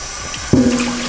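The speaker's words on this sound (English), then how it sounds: "Then what you're gonna do is switch to cold water and rinse the beets off." Cold tap water suddenly pours over cooked beets in a kitchen sink, starting as an abrupt splash and then settling into a steady close-up rush.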